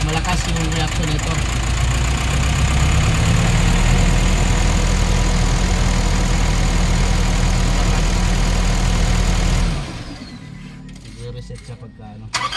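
Nissan NV350 van engine idling during injector testing, a loud steady rumbling hum with a rough, pulsing knock, running close for about ten seconds before cutting down to quieter background noise; a voice talks over it.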